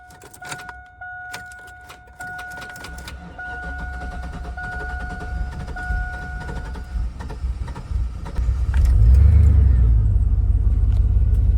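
An old farm truck engine cranks and fires up, its rumble swelling louder and nearer toward the end after a stretch of quieter idling and clicks.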